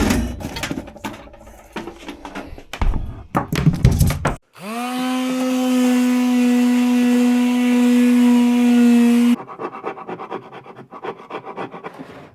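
Sandpaper scratching over the wood of a Statue of Liberty pedestal being restored: loud, uneven rasping strokes, then a steady humming whine for about five seconds, then more close, choppy rasping.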